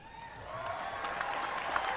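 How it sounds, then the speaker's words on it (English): Applause from a crowd at a political speech, faint and distant, a soft sustained patter of many hands rising slightly over two seconds. "Worthy applause."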